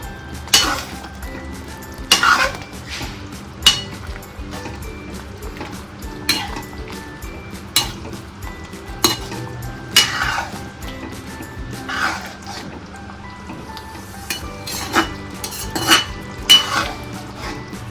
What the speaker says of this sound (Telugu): సో కారం అని వేసుకున్న తర్వాత కొంచెం కలుపుకోవాలండి